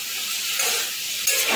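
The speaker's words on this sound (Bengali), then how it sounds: "গ্যাস সিম্পল, ওই জন্য অনবরত আমি নাড়ছি।" Chicken sizzles steadily in a hot pan on a gas flame, a close, bright hiss that surges briefly twice as it is stirred.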